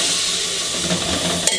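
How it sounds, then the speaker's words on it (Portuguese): Seasoned meat fries in a pan for a bean dinner, giving a steady close hiss and sizzle of steam with faint pan clinks and a small knock near the end. "eu vou fritar essas carnes aqui"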